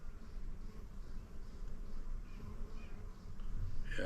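Low, steady humming buzz of honey bees near a swarm outdoors, many insects droning together at a moderate distance, continuous and fairly faint.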